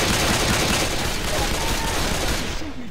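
Dense, continuous gunfire from the video game Left 4 Dead 2, a loud sustained burst of rapid shots that fills the whole moment, with no talk over it.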